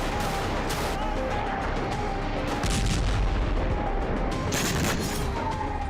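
Heavy bombing and artillery fire in Syria, caught in news footage as a loud, continuous roar with several sharper blasts bursting through, especially midway and near the end.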